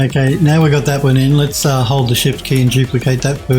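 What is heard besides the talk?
No everyday noises stand out.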